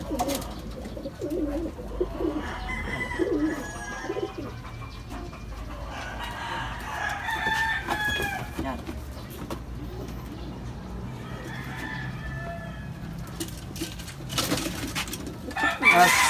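Young pigeons in a loft call and coo, overlapping one another in scattered bursts at moderate distance, with a faint background rustle and a louder flurry near the end.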